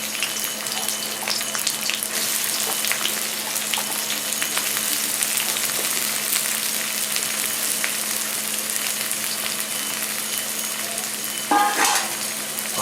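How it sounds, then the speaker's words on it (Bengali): Sliced onion with four green chillies fries in hot oil, a steady, loud, close sizzle that crackles continuously, with a brief clatter near the end and no voices. "আগে আমি পেঁয়াজটা ভেজে নেবো সঙ্গে দিয়ে দিচ্ছি চারটে কাঁচা লঙ্কা"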